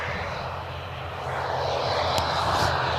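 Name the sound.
airplane coming in to land at Birmingham Airport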